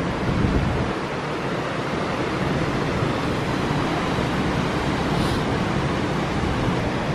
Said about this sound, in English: Look at the waves hitting out there.